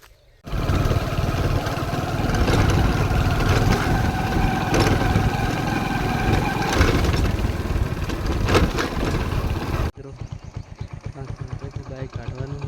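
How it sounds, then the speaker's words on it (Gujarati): A motorcycle engine idles nearby with a steady, loud mechanical rumble, then after an abrupt cut continues as a quieter, evenly pulsing idle. "બાઇક કાઢવાનું"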